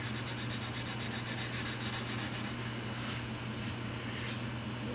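Sandpaper is rubbed across a guitar finish during repair, a steady close scratchy rasp with a faster rhythmic stroking pattern early on, over a constant low hum.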